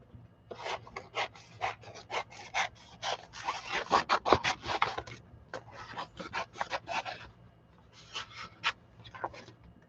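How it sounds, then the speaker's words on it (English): Large scissors snipping through paper during a craft journal project, a steady run of close, crisp cuts in quick bursts with short pauses between them. "let's use some bigger scissors to get this."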